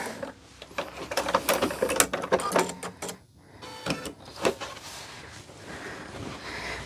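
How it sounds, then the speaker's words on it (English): A sewing machine stitches a quilt corner in several quick, close bursts of mechanical whirring and clatter, with a brief pause midway before the running resumes more softly. "We're going to turn and sew right off that corner."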